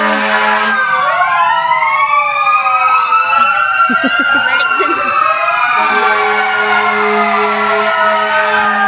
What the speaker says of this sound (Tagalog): Ayan po, dumating po ang bumbero.